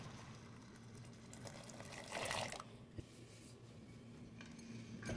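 Water pours into a pot of kadyos (pigeon peas), a faint splashing burst that rises briefly and fades, followed by a soft knock against the pot.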